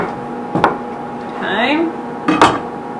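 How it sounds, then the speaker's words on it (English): Knife slicing the end off an ingredient for a caprese appetizer, with two short sharp cutting taps against a board about two seconds apart, close and crisp, a faint squeaky slide between them. "So I'll slice at the end of this really quickly before I slice the rest of it up."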